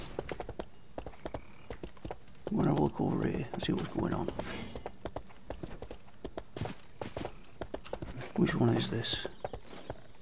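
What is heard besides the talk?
horse hooves clip-clopping in video game RIFT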